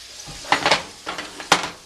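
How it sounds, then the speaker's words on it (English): Soft frying crackle of potatoes in a pan with a few louder bursts of sizzle and light scraping, close and fairly quiet, no voices. "You can hear it frying."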